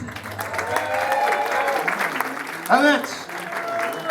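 Audience applause at a comedy club during a stand-up show, steady clapping filling the room throughout, with a compère's voice talking over it.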